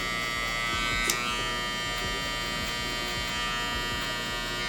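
Electric hair clippers run with the guard fully closed through coarse, straight hair during a haircut, a steady close buzz with a faint rhythmic pulsing as the blades pass, plus one brief sharp click.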